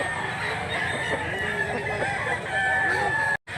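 A gamefowl stag rooster crows loudly and close by, a long drawn-out call with clucking fowl around it and no voices.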